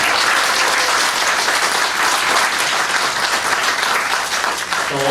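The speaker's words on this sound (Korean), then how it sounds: "우리 어린이와 청소년 여러분을 박수로 환영해 주시기 바랍니다" A church congregation at a family worship service claps to welcome children and teenagers, producing loud, dense, even applause that continues without pause for the whole stretch.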